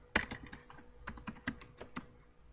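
Computer keyboard keys clicking while working in MS Word, with one sharp Enter press up front followed by several quieter, irregular taps, close and alone with no talking.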